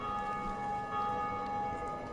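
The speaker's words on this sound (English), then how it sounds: "Every time you hear that bell ringing, that's another player doing it." A bell rings in the video game Dark Souls Remastered, a steady tonal chime sustained over a continuous hum of game ambience, with no talking over it.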